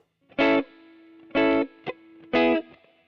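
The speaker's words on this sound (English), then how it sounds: "So, I'll try it on a neck pickup." A Gibson Memphis Larry Carlton ES-335 electric guitar played on its neck pickup through an effects unit with distortion: three loud, sustained chord stabs spaced about a second apart, plus one short plucked note between the last two.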